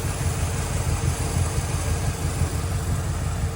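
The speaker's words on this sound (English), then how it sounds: "The engine runs super smooth." A 1950 Oldsmobile 88 with its 303 Rocket engine idling, a steady smooth low rumble with an even pulse, close and continuous without voices.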